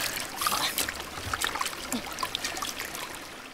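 Water trickles and splashes in a stream as two hands scoop it up, a steady close babble with small splashy bursts.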